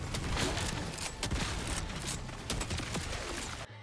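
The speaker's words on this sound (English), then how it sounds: "It's gunfire and goofy gunfire." Rapid bursts of Borderlands 4 video game gunfire crackle almost nonstop, loud and dense, with sharp shots stacking over each other before cutting off abruptly.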